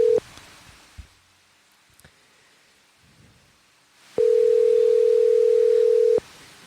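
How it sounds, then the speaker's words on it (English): A telephone call tone sounds as a single long steady electronic beep after a few quiet seconds with faint clicks and handling noise, loud and clear, alone without talk. "Okay, Austin says call him. We're going to try one more time"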